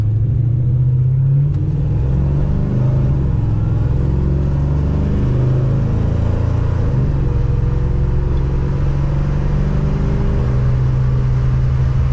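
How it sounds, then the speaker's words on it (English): A 1968 Dodge Charger with a 5.7 Hemi running an E85 tune accelerates, its loud, close engine droning and rising steadily, with no talking over it. "First drive with E85 tune."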